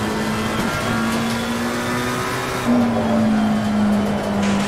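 A race car engine in a sim racing game labors up through the revs under heavy throttle, a loud steady drone that rises gradually in pitch, holding a strained buzzing tone before it lifts and climbs again.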